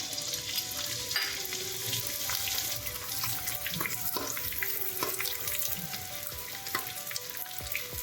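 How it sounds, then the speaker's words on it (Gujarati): Edible gum (gund) fries in hot ghee for Gujarati adadiya pak, a dense, steady close sizzle with scattered clinks and scrapes as it is stirred all around the pan. "આમ સરસ રીતે ગુંદને ચલાવતો જવાનો છે, આમ બધી જ બાજુ, અને સરસ રીતે તળી લેવાનો છે"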